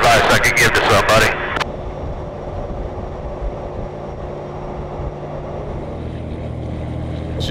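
A semi truck's diesel engine, fitted with a bigger turbo and upgraded injector nozzles, idles with a steady, close, low rumble that runs alone after a loud burst of noise in the opening second and a half.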